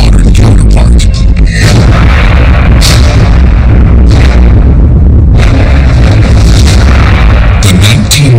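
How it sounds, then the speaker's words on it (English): Documentary recording of the 1991 Mount Pinatubo eruption in the Philippines, a massive volcanic explosion heard as a loud, continuous deep roar with repeated booming bursts throughout, dense and saturated with no quiet gaps. "The 1991 Mount Pinatubo eruption in the Philippines. The most destructive explosion of the last 100 years."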